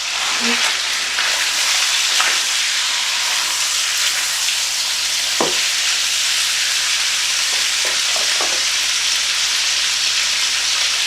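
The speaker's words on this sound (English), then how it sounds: "I'm just going to stir this around until it's caramelized" Meat and vegetables for pad see ew stir-fried in a wok, a loud continuous sizzle with occasional scrapes and clinks of stirring, close and steady with no pause.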